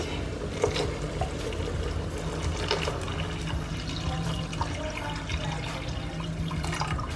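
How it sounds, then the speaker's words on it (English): Water pours and splashes into a boiling pot of kidney beans in a steady, continuous stream, with a low bubbling rumble underneath. "you're gonna add some water to it to sink it"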